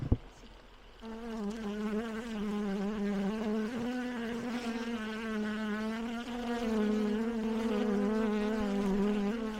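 Honeybees buzz loudly around a hive during a colony transfer, a dense sustained drone with wavering pitch rising after a brief quiet start, close by and without talk.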